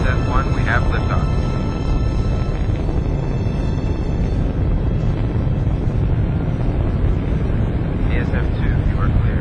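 A spaceship lifts off in the Freelancer video game intro, a dense continuous roaring rumble of engines at steady loudness, with faint radio-style voices over it.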